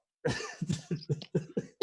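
A person coughs repeatedly in a close, harsh fit, about six coughs in quick succession.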